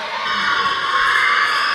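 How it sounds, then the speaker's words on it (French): A crowd at a tournament match roars wildly after a goal, a dense sustained wall of cheering and shouting voices that stays loud and unbroken throughout. "La foule est en délire."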